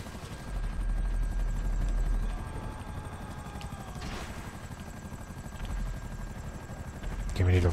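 A helicopter in the video game GTA V Online, a continuous low rotor thrum that stays near and moderately loud throughout, with a brief burst of gunfire-like clatter near the end and a person talking over it.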